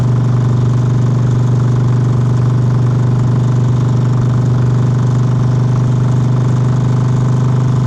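A Harley Sportster motorcycle engine runs with a steady, loud, low drone, holding an even tone throughout with no speech or other sounds.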